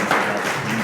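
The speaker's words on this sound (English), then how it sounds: "Hey, let's give these guys a good round of applause." Audience applause at a Preston Board of Education meeting, a short dense wash of clapping that holds steady for under a second with no voices over it.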